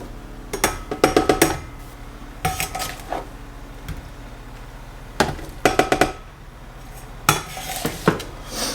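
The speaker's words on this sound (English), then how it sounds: "I'm just gonna use a 2-cup measuring cup to kind of just scoop our produce into my Vitamix here." A 2-cup measuring cup scoops roasted salsa produce into a Vitamix blender, making bursts of close clinking and clattering separated by short pauses.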